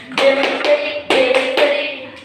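Children clapping hands in a classroom, two quick bursts of a few claps each separated by a short pause, close and loud, with a faint sung tone running through.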